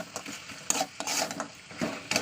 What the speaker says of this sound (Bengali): দিয়ে ভালো করে এটা কষিয়ে নেবো।